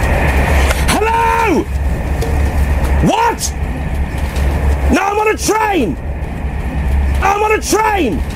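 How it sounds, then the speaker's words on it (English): A train running through a tunnel rumbles steadily and loudly underneath, while loud voices call out in rising and falling bursts over the din. "I'm on a train."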